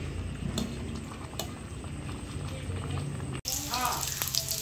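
Garlic and onion sautéing in a pan for a 1-kilo batch of spaghetti sauce, giving a steady, close sizzle with a few clicks and bumps, louder and brighter after a short cut near the end.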